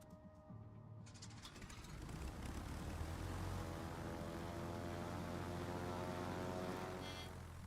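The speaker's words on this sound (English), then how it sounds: "Let me lower the engine sound." Ship engine in a naval warfare game, a loud, steady low mechanical drone with a rhythmic gear-like chatter that swells in after a quieter opening and holds to the end.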